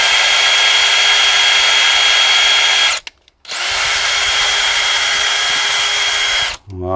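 A rotary brush scrubs the injector seat in a Renault 1.5 dCi cylinder head, making a loud, close, steady whirring spin in two runs split by a short pause.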